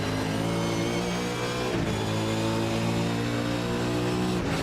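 V8 Supercar engines in a sim racing game, a steady loud engine drone holding pitch throughout with brief dips as the cars bounce over chicanes.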